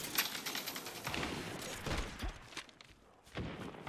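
Gunfire in an Apex Legends match on a hard map crackles in fast, fairly faint bursts at a distance, with rapid repeated shots and a few dull thuds.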